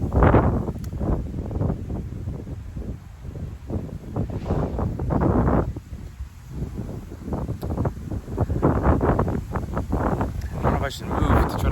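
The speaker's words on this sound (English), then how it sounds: "And I feel like that wind's picking up." Steady outdoor wind buffets the microphone in a continuous low roar with gusty swells, heard beneath a person talking throughout.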